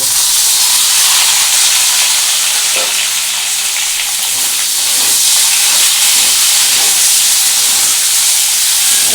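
Beans, carrots, capsicum, onion and tomato sizzle loudly and constantly in a hot pan, a dense close-up frying hiss with faint stirring clicks throughout.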